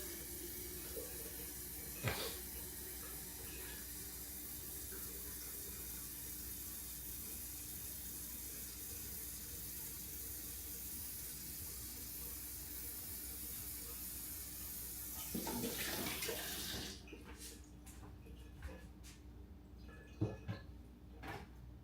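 A tap runs steadily, filling a container with water: a continuous close hiss and splash lasting most of the time, with a couple of small clinks, then the flow stops, leaving faint drips and quiet.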